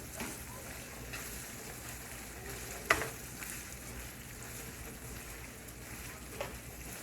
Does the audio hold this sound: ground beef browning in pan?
yes